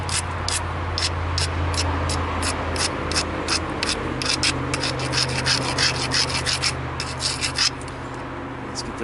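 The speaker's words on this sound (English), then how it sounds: "Grind down, and I'm going to grind across." An antler tool grinds back and forth across the edge of a flint-knapped mahogany obsidian spear head, making rapid, rhythmic, close rasping scrapes over low room hum before stopping near the end.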